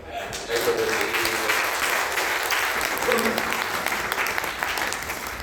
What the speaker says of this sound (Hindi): अगर भजन ठीक से गाया गया तो फिर तालियां ठीक से बजा दो।